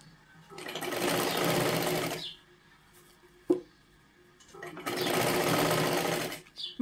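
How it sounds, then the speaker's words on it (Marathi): A sewing machine stitches a size 36 katori blouse in two even, close bursts about two seconds each, with a sharp click in the quiet gap between them. "इथे एक आपल्याला शिलाई मारून घ्यायची असते"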